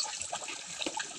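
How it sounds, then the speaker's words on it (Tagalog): Spring water flowing and splashing at an outdoor spring used for laundry and bathing, a steady close rush of running water. "Unlimited tubig dito."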